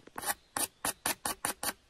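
Rhythmic rasping strokes of a coarse stone grinding across the edge of a primitive bushcraft spear, about seven short scrapes in steady succession, close and fairly quiet.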